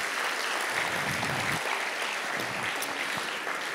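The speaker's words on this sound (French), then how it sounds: "je crois qu'on peut les applaudir" Audience applause for volunteer guests at a French public talk on the artistic brain: a steady, dense wash of many hands clapping throughout, fairly close and even, with no voices over it.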